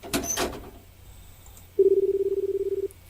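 Payphone in a video game: a few clicks and clunks as coins drop or buttons press, then a steady repeating electronic tone pulses after a quiet pause, clean and close.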